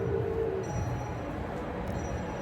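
A train in Sydney rumbling steadily at close range, a low continuous rolling drone with a brief tonal squeal near the start and no voices.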